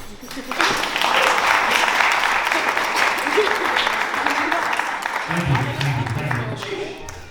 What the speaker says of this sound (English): I think that calls for a round of applause.